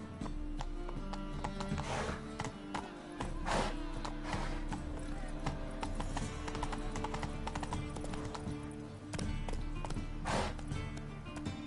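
A horse in The Witcher 3 trots and gallops, with rhythmic hoof clip-clops continuing steadily over about twelve seconds under game ambience, with occasional faint voice sounds.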